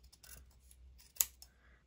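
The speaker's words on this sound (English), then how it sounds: "I'm just going to trim down here a little bit" Scissors trim paper for a craft binder edge, a few close, quiet snips with one sharper cut, with no talking.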